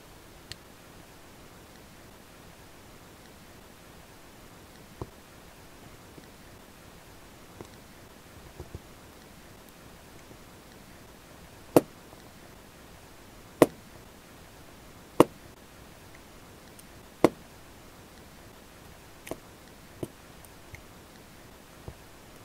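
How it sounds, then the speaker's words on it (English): A hobby knife snapping through parts of a Tidmouth Sheds model, a handful of sharp, isolated cuts spaced several seconds apart over faint room hiss, with no talking. "For the front window sections, we cut off these end bits closest to the window,"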